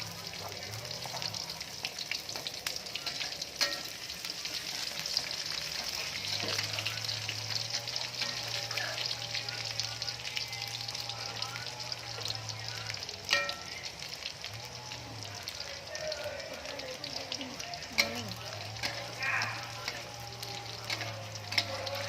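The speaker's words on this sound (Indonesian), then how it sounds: "sekarang minyak sudah panas, kemudian kita masukkan bawang merahnya" Shallots frying in hot oil for a meat gulai, a steady sizzling hiss with occasional pops and stirring, accompanied by a low background hum and faint voices.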